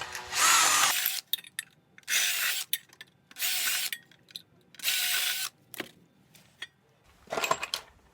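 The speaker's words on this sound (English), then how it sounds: "the first thing I'm going to do is pre-drill the shim, just using a standard drill" A standard power drill pre-drills a metal shim for a Simpson universal foundation plate, running in five loud, separate bursts of about half a second to a second each, with short pauses and small clicks in between.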